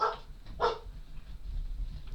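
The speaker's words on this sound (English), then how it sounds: "Dogs thought it was important to let me know about the neighbours" Dogs bark at the neighbours, two sharp barks spaced about half a second apart, fairly close indoors, followed by quiet room tone.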